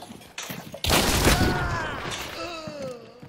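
A single loud gunshot in the Hunt video game cracks out with a booming tail, followed by a human groan and faint background sounds.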